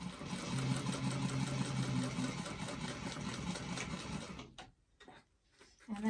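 A home sewing machine runs steadily while back stitching a fabric doctor's bag, a dense motor whir with rapid needle clatter that stops abruptly, leaving brief quiet before it starts again.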